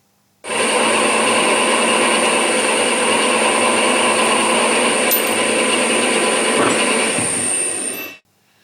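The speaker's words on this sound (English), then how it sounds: "I go back to my lathe and part it off from the correct place." A metal lathe parting off a small piston for a Stirling engine runs as one steady, loud machining whine with a sustained high tone for about eight seconds, then cuts out.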